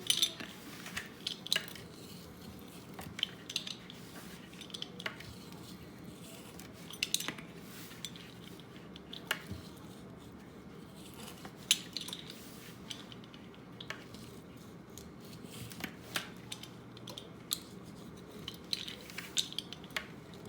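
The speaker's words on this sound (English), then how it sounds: "So now we're gonna cut the pizza into as many slices you like." Knife or cutter scrapes and clinks against a pan while slicing a stuffed-crust garlic and cheese pizza, with faint, scattered taps and clicks over a quiet kitchen background.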